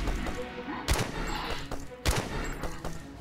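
Two sharp gunshots from a gun in the video game Earth Wars, fired about a second apart over a steady bed of game music and ambience.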